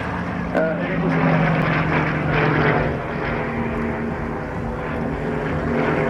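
A propeller plane at an air show drones steadily at a distance during a slow roll, its engine note holding fairly constant with slight swells as it manoeuvres, under a continuous broadband rumble.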